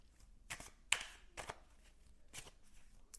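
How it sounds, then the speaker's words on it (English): Tarot cards being shuffled by hand, a few short, crisp riffling bursts separated by quiet pauses, close and fairly soft. "Oh, not shuffling properly."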